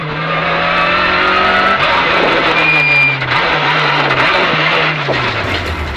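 A Peugeot 205 rally car roars close and loud without a break, its engine pitch climbing and dropping through gear changes as it drives hard and brakes, with faint tyre noise.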